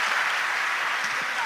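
Audience applause at a Hindi poetry recital (kavi sammelan), a dense steady wash of clapping from a crowd throughout, loud and sustained with faint voices underneath.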